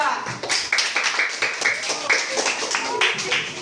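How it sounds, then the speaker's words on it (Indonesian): A classroom of students claps for a group, uneven rhythmic clapping with distinct hand strikes, close by and mixed with children's voices talking over it. "Oke, beri tepuk tangan ke kelompok 2."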